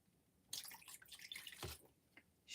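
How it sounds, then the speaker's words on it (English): Water being poured into a dish to soak an inked rubber stamp, a short faint splash and trickle that starts abruptly, with a few drips afterward in a quiet room. "Add a bit more water to that because it's a bit"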